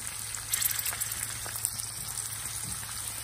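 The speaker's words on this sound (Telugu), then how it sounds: "ఇవన్నీ వేసి వేయించుకుందాం." Garlic and coconut frying in a pan over medium flame, a soft steady sizzle with scattered light crackles and pops, fairly quiet and close.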